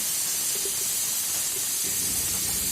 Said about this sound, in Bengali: এবার প্রেসার কুকারের মধ্যে থাকা স্টিমটাকে আমি এইভাবে বের করে দিচ্ছি।